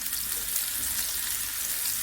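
Mushrooms sizzle and fry in hot oil in a pan, a steady, close crackling hiss with no pauses throughout.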